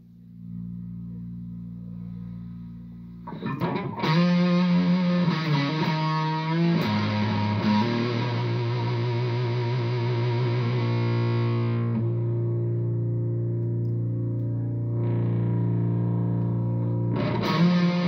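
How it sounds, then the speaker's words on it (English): A distorted electric guitar through a Rat distortion pedal plays sustained, gritty chords and notes after a quiet start, ringing out loudly with a brief pause before another chord. "Distortion. We're going to use the rat here."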